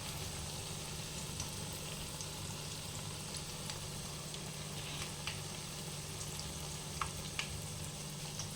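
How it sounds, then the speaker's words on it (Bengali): Eggplant sizzles and fries in oil in a pan over a medium flame. It makes a steady, continuous crackling hiss with occasional small pops, close and fairly quiet, with no talking. "ভাজতে হবে।"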